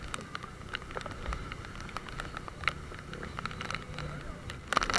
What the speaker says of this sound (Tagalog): Ay, nako, lalong lumalakas yung ulan.